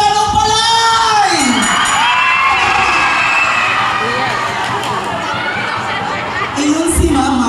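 Festive crowd at a barangay fiesta in Kalamtukan, Bayawan City, Negros Oriental, shouting and cheering loudly and continuously, with whoops and children's cries; clapping is not distinct under the roar.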